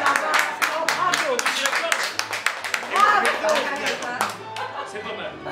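Cabaret audience members clap for a magician's rope trick at a 2012 village evening show, sparse, uneven hand claps close by, mixed with scattered voices and laughter.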